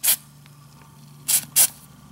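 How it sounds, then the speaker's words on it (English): Three short hissing bursts of Knocker Loose penetrant sprayed onto a nylock nut and pivot bolt on rear suspension hardware, one burst and then a close pair a second later, over a faint low hum. "I recommend applying some knocker loose to the suspension hardware"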